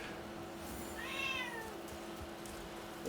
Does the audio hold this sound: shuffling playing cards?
no